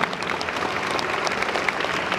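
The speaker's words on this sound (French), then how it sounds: "un deuxième petit applaudissement pour Fabien" A crowd at a Japan Expo Sud 2012 conference claps steadily for a couple of seconds, a dense, even patter of applause with no voices.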